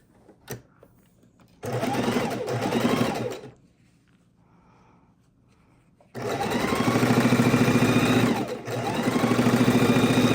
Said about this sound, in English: line it up on the edge, and we're going to sew it on.